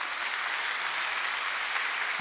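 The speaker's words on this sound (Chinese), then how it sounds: "拍手给荣耀给我们的上帝。" A church congregation at a Sunday service claps in a dense, steady wash of applause, moderately loud and even throughout, with no talk over it.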